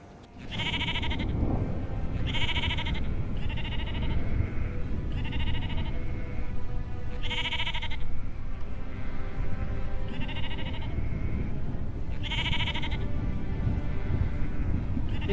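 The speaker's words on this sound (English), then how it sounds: "These are my sheep." Sheep bleat repeatedly in a loud, steady series of calls, several voices overlapping close by against a constant rumbling background.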